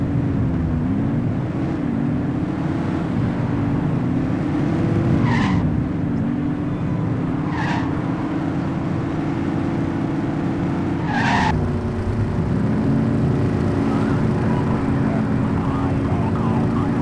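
Car engine roars and tyres skid in The Precinct, a police video game, with a sustained engine drone and three sharp screech bursts spaced a few seconds apart, loud and continuous with no talk.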